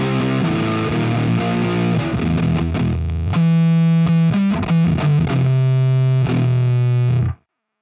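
Fuzzy, heavily distorted electric guitar plays a sustained riff of held notes and chords, loud and close, then cuts off abruptly near the end.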